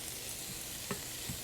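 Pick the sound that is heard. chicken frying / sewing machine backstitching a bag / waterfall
chicken frying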